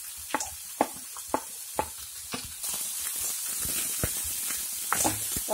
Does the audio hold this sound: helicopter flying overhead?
no